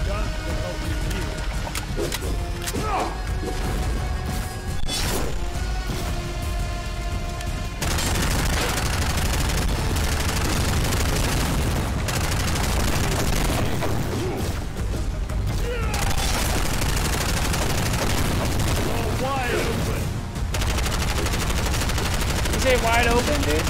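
Dense gunfire in the video game Bright Memory Infinite, rapid automatic bursts and heavy booming shots layered over game music and effects, loud and nearly continuous, with a player talking over parts of it.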